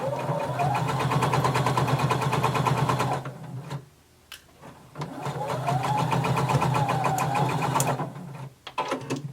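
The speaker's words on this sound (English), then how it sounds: "you're going to sew 1/4 inch across the bottom, and then we're going to go up the front" A sewing machine stitches a quarter-inch seam across the bottom of a garment in two rapid, steady runs with a short pause between them, then a few brief bursts close by.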